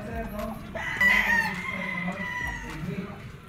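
Rooster crowing from an El Gamma Gray straight comb gamefowl at a gamefarm, one moderately loud crow rising over a busy backdrop of other birds and faint farm noise.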